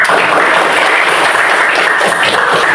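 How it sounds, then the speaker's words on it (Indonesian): A classroom of students claps for a group after its presentation, a loud, dense, continuous burst of applause with no talk over it. "itu beri tepuk tangan untuk kelompok 1"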